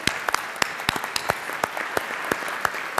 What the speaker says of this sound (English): Let's give all of the city officials a round of applause.